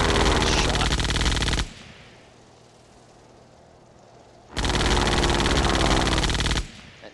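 Two long, dense bursts of machine gun fire from a WWI biplane in the video game Sid Meier's Ace Patrol, loud and continuous for about two seconds each, separated by a quieter stretch of low engine drone.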